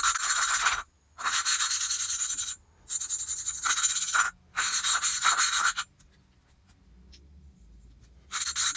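A valve on a Tillotson 212R small engine is lapped back and forth against its seat, making loud, gritty rubbing strokes in several bursts separated by brief pauses, then a longer quiet stretch before the rubbing resumes.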